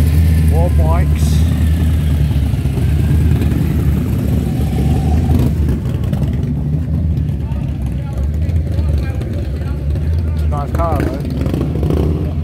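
Motorcycles roll into an outdoor fundraising car meet, their mid-pitched engines idling and revving steadily close by while people talk over them.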